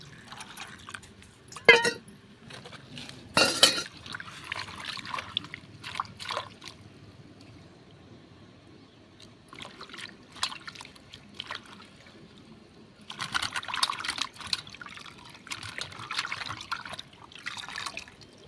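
Ajwain leaves are washed in water, giving soft intermittent splashes, drips and trickles close by. The sound is quiet overall, with a few sharper sloshes and busier stretches of handling near the end.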